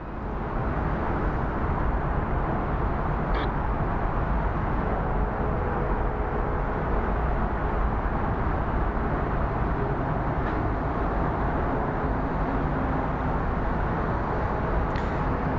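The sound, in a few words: train passing near Phoenix Sky Harbor airport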